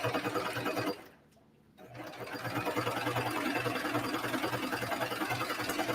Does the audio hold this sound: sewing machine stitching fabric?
yes